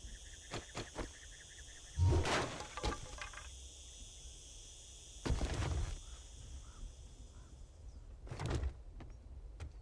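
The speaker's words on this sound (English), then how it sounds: "Hear the cicadas? It's now midday." Cicadas buzz at midday in a desert survival video game, a faint steady high drone running throughout, broken by a few brief louder clicks and thumps.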